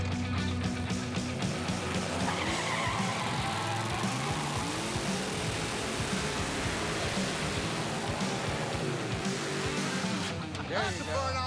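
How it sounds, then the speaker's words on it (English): A Camaro drag car does a tire burnout, a loud, continuous roar of engine and spinning tires that holds at full intensity for over ten seconds while people talk over it. "That's a burnout right there, baby."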